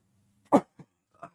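A single sharp cough bursts out close to the microphone, followed by two smaller throat-clearing grunts in otherwise quiet surroundings.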